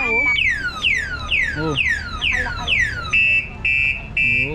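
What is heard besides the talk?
e-bike anti-theft alarm sounding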